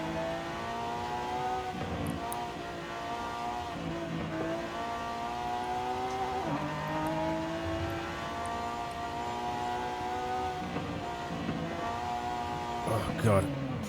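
Race car engine in a racing video game, a continuous revving drone with rising gear sweeps and shifts, heard steadily throughout with a person talking over it.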